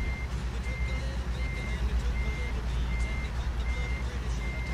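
A heavy truck backs up in American Truck Simulator at night, its reversing alarm beeping in a steady, evenly spaced rhythm over a constant low diesel engine rumble.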